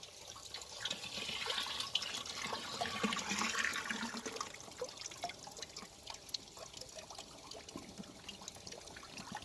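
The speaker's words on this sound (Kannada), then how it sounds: "ಈ ಪ್ರಾಡಕ್ಟ್ ಮಿಕ್ಸ್ ಮಾಡಿ ಇನ್ನು ಅದನ್ನು ನೀರಿಗೆ ಎರಡು ನೂರು ಲೀಟ್ರ್ ನೀರಿಗೆ ಇವತ್ತು ಮಿಕ್ಸ್ ಮಾಡ್ತಾ ಇದ್ದಾರೆ" Water swirls and trickles as a soil booster product is mixed into 200 litres of water, a faint, continuous splashing and gurgling with scattered drips, heard alone at low level.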